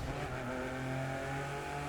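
An Alfa Romeo Giulia Quadrifoglio engine in The Crew 2 racing game holds a steady, loud rumbling drone with layered harmonic tones, close and continuous, with no talking.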